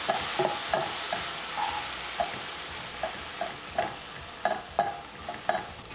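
Onions and garlic cooking without oil in a splash of vegetable broth in a nonstick pan, giving a soft, close sizzle broken by regular scraping strokes of a spatula, with no talking.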